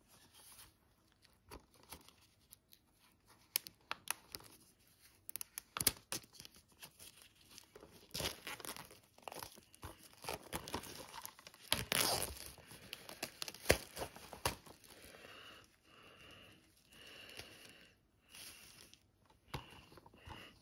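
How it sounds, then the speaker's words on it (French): Packaging of a collector's edition 4K disc being unwrapped, with intermittent crinkling and tearing of plastic and cardboard at close range, quiet and scattered across the whole span with no talking. "Et donc on va déballer la version 4K."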